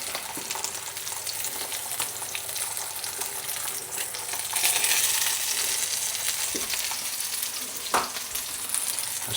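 Bacon fries in a pan with a loud, continuous crackling sizzle that swells slightly midway, broken by a few small pops and clinks, and no voices.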